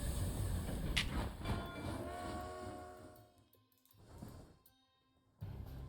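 Armored train rolling along in the Panzer Corps 2 strategy game, a steady rumbling rail clatter with a sustained horn-like tone that fades into quieter rumbling, then a brief renewed burst at the end.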